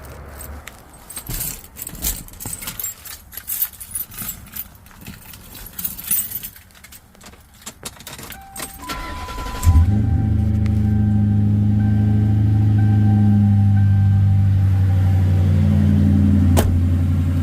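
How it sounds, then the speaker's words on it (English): A vehicle engine starts on a battery charged by a Noco Genius 5: keys jangle first, then the engine catches at about ten seconds and settles into a loud, steady idle that runs to the end. "let's start the vehicle up and see how well it does"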